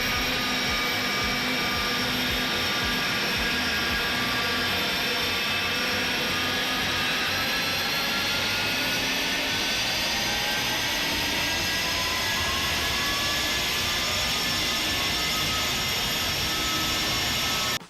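An Airbus A300F freighter in X-Plane 11 runs its jet engine thrust reversers, a loud continuous roar with a high whining tone that slowly shifts pitch, sustained throughout before cutting off abruptly at the end.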